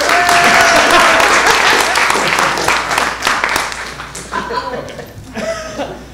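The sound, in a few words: audience applause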